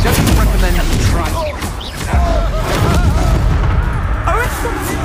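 A Confringo fire spell blasting in the Hogwarts Legacy video game, heard as loud booming explosive bursts over dense game combat noise, with voices talking throughout.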